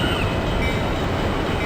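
A simulated Surfliner passenger train in the Open Rails simulator slows toward a stop, heading to San Diego, giving off a steady, close rumbling rail noise with no voices.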